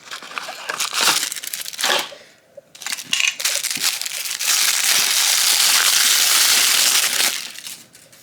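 A Sonic Knuckles toy figure is unwrapped from its box, with loud close crinkling and tearing of plastic packaging in bursts, a brief pause, then a sustained rustling crackle that fades at the end.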